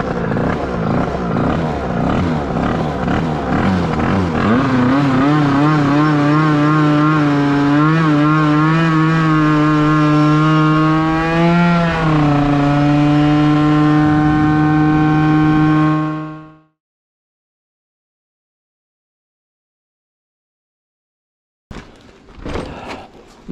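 Yamaha Aerox 95 scooter with a Rexxys R/T 95 kit, its engine running unevenly and shaking: a loud, steady buzzing drone with a wavering pitch that cuts off abruptly, followed by several seconds of silence and a brief rustle at the end.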